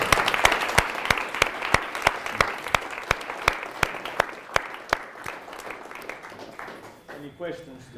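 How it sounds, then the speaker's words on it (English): An audience applauds at the end of a game monetization design lecture, with steady clapping and a strong rhythmic beat from one nearby clapper, fading out as a voice starts talking near the close. "we should end with a big round of applause to us"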